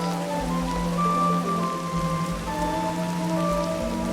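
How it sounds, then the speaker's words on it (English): Steady rain in the video game Ancestors, a dense, even patter of drops on surfaces with a low rumbling bed underneath, continuous and moderately loud with no voices. "At least as soon as it stops raining."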